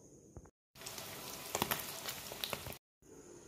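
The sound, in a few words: dry fish frying in a pan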